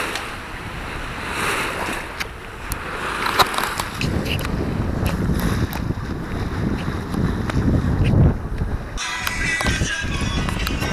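Strong wind roars across a boat at sea near Saint-Gilles-Croix-de-Vie, heading toward Île d'Yeu, with steady buffeting noise, rushing water and brief bursts of louder gusts throughout.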